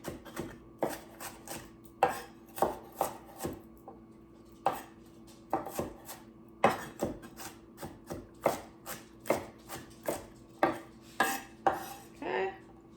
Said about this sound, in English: So there's the celery. Chop that up a little more.